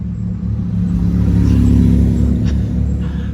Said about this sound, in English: there's a casual Chimera driving along the street